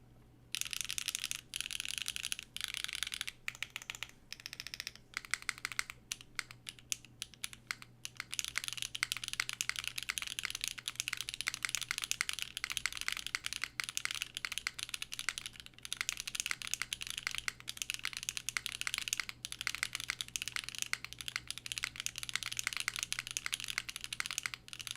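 Rapid, continuous clacking of a mechanical keyboard fitted with HMX Lunar Stone switches on the alphas and a Geon Raw Zero spacebar, on a copper-weighted Secret65 with a PP plate, typed close up with fast crisp strokes and no talking.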